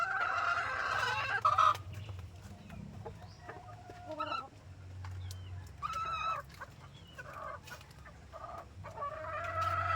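RTL chickens in a backyard flock cluck and call nearby, several birds giving short repeated clucks and brief squawks over a low steady background hum.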